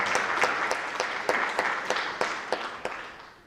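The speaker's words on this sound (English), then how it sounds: "let's give her a big round of applause, Mrs. Hanlon, from the audience tonight" An audience at a high school National Honor Society induction ceremony applauds a staff member, a dense, steady round of clapping from a crowd, with a few sharper claps standing out as it gradually tapers.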